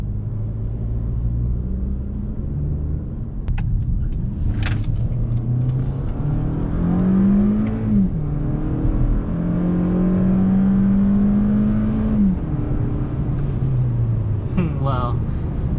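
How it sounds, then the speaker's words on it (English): A 2018 Toyota Camry engine revs up to a high whine, holds there, then drops and climbs again under a rumbling cabin drone, with someone speaking at times. "I'm amazed how the engine is hanging to the higher RPM"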